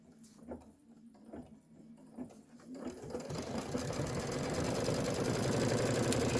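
An embroidery sewing machine starts quilting: a few clicks and taps are followed by a rising, steady, rapid mechanical stitching hum that grows loud and continuous.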